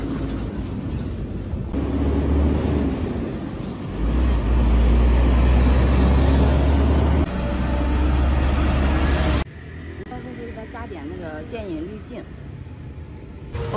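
Domestic-made cargo trucks driving past on a road in Laos by a bus station, heavy low engine rumble rising and falling with passing vehicles, then quieter, with people talking throughout.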